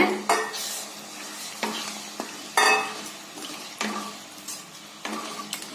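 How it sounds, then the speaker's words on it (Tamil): A spoon scrapes and stirs guar bean masala curry with added water in a pan, producing repeated rhythmic clanks and scrapes against the metal over a soft bubbling sizzle, close and clear with no talking. "மிக்சி கழுவுன தண்ணிங்க, இந்த தண்ணி சேர்த்துட்டு நல்லா கலக்கி விடுங்க."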